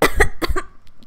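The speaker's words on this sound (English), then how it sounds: "I can't even talk, I'm coughing now." Several sharp, loud coughs fire in quick succession close to the microphone, the first three bunched tightly together, followed by a fainter trailing cough or two as they die away.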